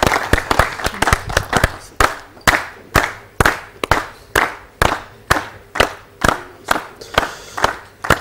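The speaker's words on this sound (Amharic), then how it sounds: "አጨብጭቡላችሁ" A studio audience on an Ethiopian television talent show claps in unison, loud sharp beats falling at a steady pulse of about two per second after a faster scattered start, close and dominant.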